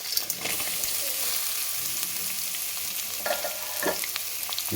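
Curry leaves and onion pieces fry in hot oil in a pan, giving a continuous crackling sizzle with a few sharper pops and scrapes of stirring near the end.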